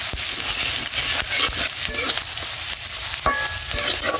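Chopped onion gently frying in soybean oil in a heated kadai gives a close, continuous sizzle, with utensil scrapes and clinks as it is stirred throughout.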